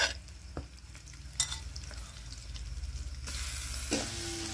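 Chillies and chili powder fry in a pan with a continuous close sizzle, joined by occasional stirring scrapes and a brief clink, the hiss growing brighter toward the end.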